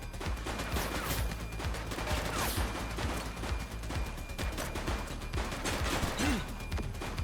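Gunfire in a police shootout in The Precinct, with a dense run of sharp shots and bursts over a busy background, one or two louder impacts standing out from the steady crackle.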